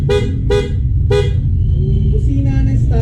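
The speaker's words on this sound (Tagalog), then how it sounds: "Loud horn. Loud horn." Three loud, sharp blasts from an upgraded loud horn on an ADV motorcycle, evenly spaced and close by, followed by a steady engine or road rumble with faint tonal traces.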